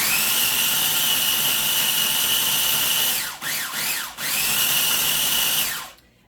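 A food processor chops and grinds garlic lemon hummus with a steady loud motor whir, briefly dropping in pitch and pulsing twice around the middle before running on again and then cutting off at the end.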